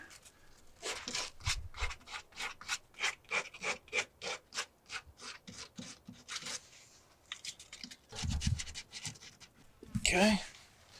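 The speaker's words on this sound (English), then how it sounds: "some sandpaper to kind of scuff it" Sandpaper scuffing a surface to help adhesion during an RV water leak repair, a quick rhythmic series of close rasping strokes, pausing before a few heavier rubs and a brief clatter, with occasional speech.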